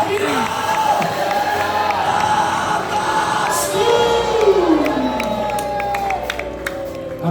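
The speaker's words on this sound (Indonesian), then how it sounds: "berikan tepuk tangan yang mulia bagi Tuhan" A church congregation cheers and shouts together with scattered applause and whoops during a worship service, a loud, sustained crowd roar that carries on under melodic voices.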